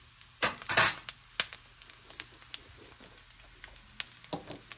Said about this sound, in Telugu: ఆవాలు, జీలకర్ర, మినపప్పు, శనగపప్పు, వీటిని వేయించుకోవాలి